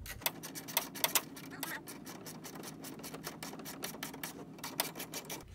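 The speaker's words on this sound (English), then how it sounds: "Now we're going to use the socket wrench and tighten this bolt with the nut." A socket wrench ratchets quickly and evenly, close by and fairly quiet, as it tightens a bolt and nut on a flat TV ceiling mount with tilt and swivel.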